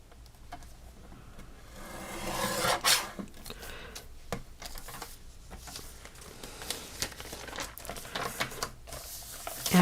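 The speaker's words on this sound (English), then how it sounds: "And then I'm going to trim a little bit off the side here." A paper trimmer slices card stock with continuous scraping and rubbing strokes, moderately loud and close, rising into a sharper swipe near three seconds and continuing with uneven rasping.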